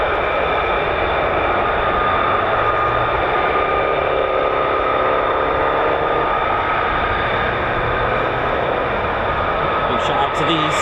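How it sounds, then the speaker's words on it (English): An F-15 fighter jet makes a low approach at RAF Lakenheath, its engine roar a broad, continuous, loud rumble sustained throughout, with no talking. "The second one that just did that low approach was the supervising, escorting F-15 there."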